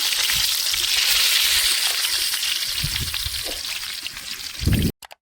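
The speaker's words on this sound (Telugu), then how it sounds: "ఆయిల్ హీట్ అయిన తర్వాత ఉల్లిపాయ అయితే వేసుకోవాలి" Onions frying in hot oil in a biryani pot for Nellore-style chicken biryani, a loud close hissing sizzle that bursts in and gradually settles, ending with a few clattering knocks, no talking.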